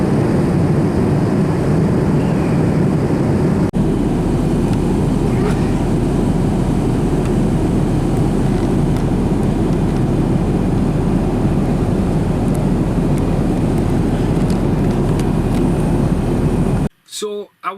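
A long-haul airliner in flight fills the cabin with a loud, unbroken roar that holds steady for a long stretch and then cuts off abruptly near the end.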